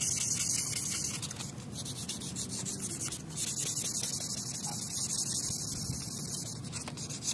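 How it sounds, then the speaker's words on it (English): Wet sanding with 1500 grit sandpaper on touched-up spray paint on a Lexus RX350 body, smoothing orange peel: a continuous close rasping rub in long steady strokes, with no talk. "I'm going to use some 1500 grit sandpaper and wet sand this area"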